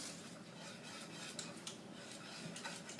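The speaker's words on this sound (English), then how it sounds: "Get your little hand grater and grate your own cheese." A block of cheese is rubbed against a hand grater for old-school mac and cheese, a quiet, continuous rasping scrape with faint rhythmic strokes and a few light metallic clicks, close and without speech.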